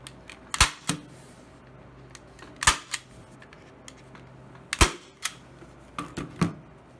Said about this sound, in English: And then use my staple gun to attach it.